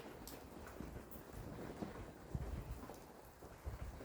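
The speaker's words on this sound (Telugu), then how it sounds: "ఇదల్లా వర్షం పడుతుంది" Steady rain patters softly and continuously, a low wash of drops with occasional heavier thuds, no voices.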